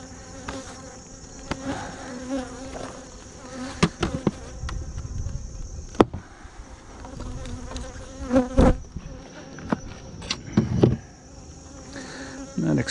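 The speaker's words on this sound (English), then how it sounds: "Okay, this is one of my weaker hives here." Honey bees buzzing in a weak beehive during a honey super inspection, a steady close drone of many bees with occasional nearer individual buzzes and scattered knocks and clicks of hive frames.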